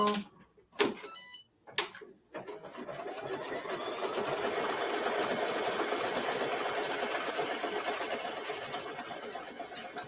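An embroidery machine starts up after a few brief clunks and then runs in a steady, fast mechanical whir while stitching placement lines, close and continuous with no talk.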